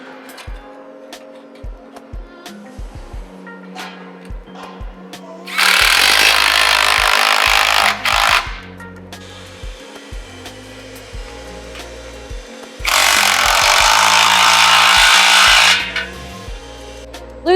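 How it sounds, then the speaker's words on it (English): A power tool, likely an impact wrench, tightens exhaust clamps on a BRZ/86 exhaust install, running in two loud sustained bursts of several seconds each, with quieter clicks and handling noises in between. "you can tighten down the rest of your clamps starting at the front"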